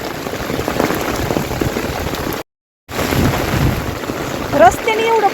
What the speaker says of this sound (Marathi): रस्त्याने पण पाणी एवढं वाहतंय.